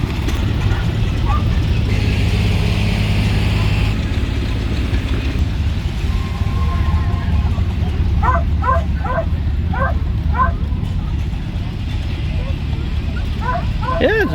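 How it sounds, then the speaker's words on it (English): A dog barks at an outdoor antique farm equipment and steam engine show, giving several quick barks in the middle of the stretch over a constant machinery hum. "Yeah, it's a dog."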